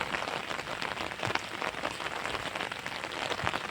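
Steady rain patters and splashes on a surface, a dense, even hiss of drops with no voices.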